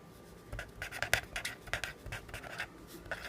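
Pen writing by hand on paper during a seventh-grade maths lesson, a run of quick close scratchy strokes in short bursts with brief pauses between words, no talk over it.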